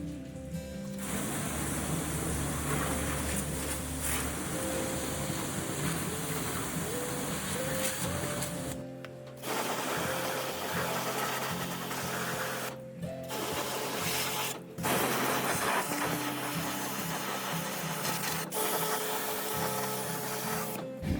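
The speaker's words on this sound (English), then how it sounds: "we're going to clean it using our pressure washer" Pressure washer jet spraying a split AC outdoor unit, a loud steady hiss and drone of water with the pump humming underneath, briefly cutting out a few times before resuming.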